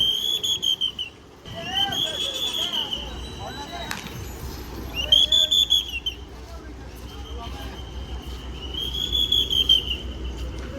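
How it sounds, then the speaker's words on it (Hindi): Shrill whistles blow repeatedly at Godhra bus stand, long piercing blasts recurring every few seconds over a low idling bus engine and crowd murmur. "सीटियों की आवाज़ से चहचहा उठा"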